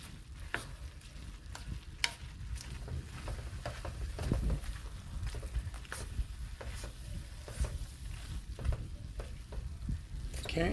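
Freshly chopped green beans sizzle and crackle steadily in a frying pan for egg rolls, with occasional stirring clicks and scrapes close by, no talking.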